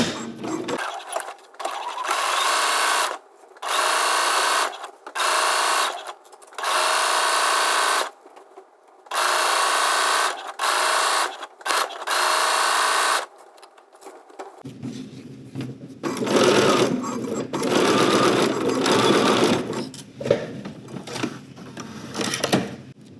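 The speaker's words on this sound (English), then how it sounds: "I'm just going to straight stitch around, starting at the underarm seam." Home sewing machine straight stitching around a garment lining with stretch thread at a 5/8 inch seam allowance. It whirs loudly and close in repeated runs of one to two seconds with brief pauses, then gives way to a lower, rougher rustling near the end.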